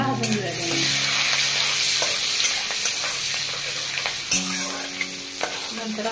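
Finely chopped green chillies fry in hot oil in a pan, a steady close sizzle with occasional stirring scrapes and a clink of the spoon, no talk.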